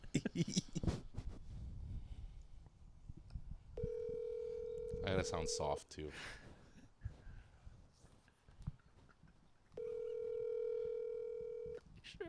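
A telephone call goes out, with dial tones and two long steady rings separated by a gap, while a person talks quietly before and between them.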